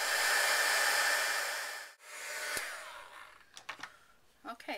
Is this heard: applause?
no